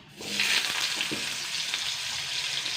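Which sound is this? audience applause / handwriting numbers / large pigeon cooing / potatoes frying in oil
potatoes frying in oil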